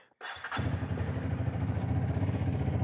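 A motorcycle with an electronic clutch starts up after a brief quiet moment, then runs steadily in traffic with a low, throbbing rumble close by.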